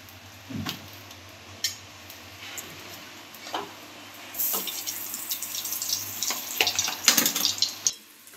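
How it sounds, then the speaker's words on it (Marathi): Butter goes into hot oil in a pan for a restaurant-style egg butter masala gravy. A few soft clinks come first, then a bright, crackling sizzle swells up about halfway and keeps hissing to the end. "आता थोडं आपण बटर टाकूया"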